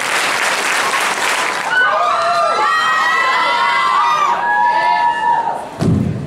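A student crowd at a youth assembly event bursts into loud clapping, then excited high-pitched cheering and whooping rises over the applause, ending with a sharp thud near the close.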